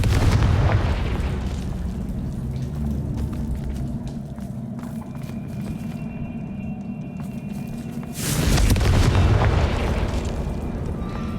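Confringo explosive spell blasts from Hogwarts Legacy: a loud booming burst opens, the rumble settles into a steady roar, then a second heavy blast erupts near the end, with no talking.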